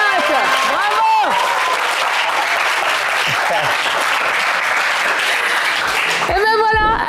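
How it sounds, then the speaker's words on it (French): A game show studio audience applauds a winner, loud continuous clapping throughout, with a host's voice talking over it at the start and the end. "mais ça s'applaudit les amis!"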